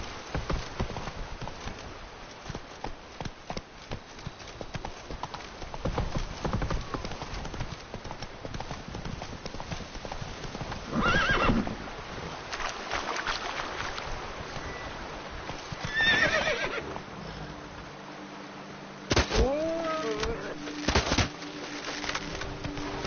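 Hooves of the horse Roach clip-clop steadily in a video game, with a couple of whinnies and snorts breaking through near the middle and end over a busy game background.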